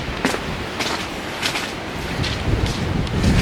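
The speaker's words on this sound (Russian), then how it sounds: "Ветрища. Ураганище." Strong gusty wind before a hurricane in a Siberian village, buffeting the microphone in a continuous roar with sharp bursts and rising surges.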